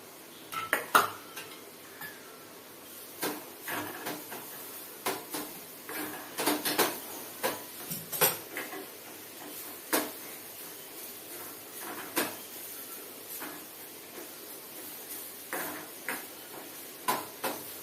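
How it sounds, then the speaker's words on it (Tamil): A metal utensil clinks and scrapes against a pan of coconut roasting in ghee at irregular intervals, close by and fairly crisp, with no voices. "நான் இப்போ வந்து இது தேங்காயை இதில் வறுக்கிறேன்"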